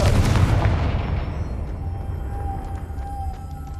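A Confringo blasting spell goes off in a Harry Potter video game: a loud, booming burst at the start that rolls off into a long, decaying rumble, with no voices.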